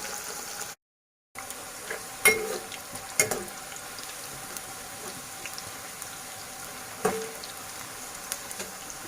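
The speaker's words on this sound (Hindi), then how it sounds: "ये बैंगन अब फ्राई हो चुके हैं।" Eggplant pieces frying in oil in a pan over medium flame, giving a steady, soft crackling sizzle with a few sharper pops and stirring knocks, close and fairly quiet, with no talking.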